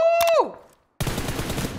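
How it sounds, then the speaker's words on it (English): Video-game gunfire from an intense apartment-building firefight, with a quick burst of loud close shots that fades out, then after a brief silence a dense crackle of continuous distant gunfire. "Shots from the left, shots from the left"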